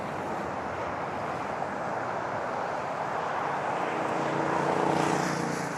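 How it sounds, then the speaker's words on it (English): A Delta Boeing 737-800 jet takes off at LaGuardia with a loud, continuous engine roar and rumble that swells slightly toward the end, heard from a distance without speech. "It's a 737-800 Delta in SkyTeam livery."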